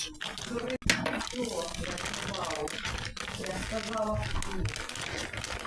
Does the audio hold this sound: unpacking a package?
yes